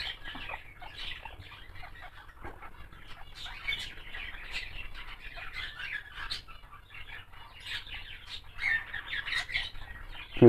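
Baby pet birds, young budgies, chirp and squawk in a dense, continuous flurry of high, bright calls, close by and fairly quiet, with no talking.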